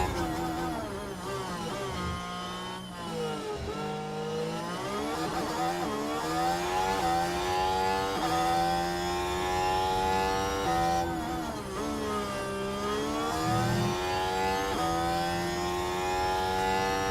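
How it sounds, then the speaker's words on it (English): F1 car engines in the racing game F1 Manager 24 scream continuously, with high harmonic whines rising and falling through gear changes and overlapping cars, loud and steady for the whole stretch with no talk. "These cars really do sound impressive"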